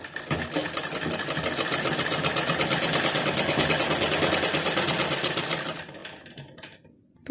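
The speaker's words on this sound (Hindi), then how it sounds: "उसके बाद चारों साइड से हम मशीन से जो है इसको अटैच कर देंगे" A sewing machine stitching blouse lining to fabric, a rapid even close-up whirring rattle that runs for several seconds and then winds down to a stop.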